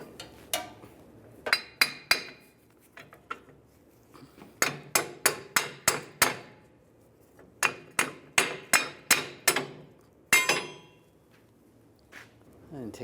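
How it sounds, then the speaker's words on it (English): A hammer strikes metal in clustered bursts of sharp, ringing blows, knocking a stuck plate off the U-bolts of a rear leveling kit on a 2007-2013 Chevrolet Silverado 1500, with quiet pauses between the groups of hits. "If it's stuck on there, just use a hammer."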